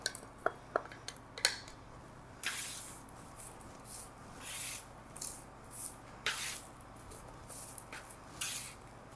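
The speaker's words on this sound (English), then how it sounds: "Let's go ahead and stir in our chickpeas." Chickpeas stirred into roasted cauliflower on a sheet tray, giving a few sharp early clicks and then intermittent scraping, rattling swishes of food moving across the metal pan, close and moderately quiet.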